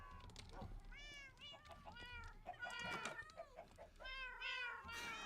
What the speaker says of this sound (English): They're meowing so much.